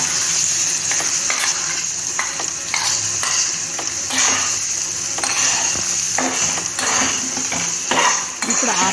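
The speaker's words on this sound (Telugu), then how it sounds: "ఇందులోకి మళ్ళీ కందిపప్పు పచ్చడిని దానిలో వేసేయాలి. వేసి 1 నిమిషం ఫ్రై చేయాలి." Toor dal chutney frying in a pan with a loud continuous sizzle, overlaid by repeated scraping and clattering of a metal spoon stirring against the pan.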